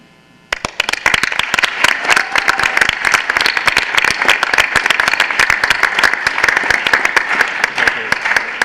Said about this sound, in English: We certainly applaud these achievements, Caroline, and wish you continued success.